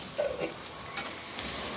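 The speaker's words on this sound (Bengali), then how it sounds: "পেঁয়াজটা একটু ভাজা হয়ে গেছে এবার দিয়ে দেবো কয়েকটা কাঁচা মরিচ" Green chillies tossed into onions frying in a pan, a steady hissing sizzle with a brief stir and soft clatter near the start.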